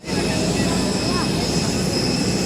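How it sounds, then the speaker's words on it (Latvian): An airplane's engines hum steadily and loudly with a high whine on top, a continuous nearby drone that does not change over a few seconds. "Mūsu lidmašīna."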